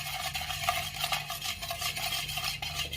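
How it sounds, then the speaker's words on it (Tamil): Makhana (fox nuts) being stirred with powdered salt in a pan or bowl, giving a continuous soft rattling, scraping shuffle of light puffs that is close and even, with no talking. "அடுத்து உப்பு, தூள் உப்பு, நல்லா மிக்ஸ் பண்ணி கொடுத்துக்கோங்க"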